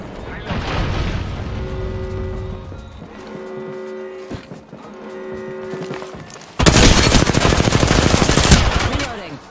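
Video game battle gunfire: bursts of rapid automatic fire mixed with game sound effects and voices, ending in a loud sustained barrage.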